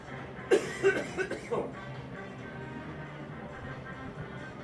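A few close coughs in quick succession, fairly loud, followed by a low continuous background hum of crowd and room noise at a Bradford Bulls versus Hull FC rugby league match.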